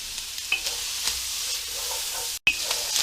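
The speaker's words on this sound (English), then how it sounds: "we've got our ham in here, and what I'm trying to look for is for it to get just a slight browning" Ham browning in a pan over medium-high heat gives a steady close sizzle and crackle, with a few brief stirring scrapes and one very short break in the sound.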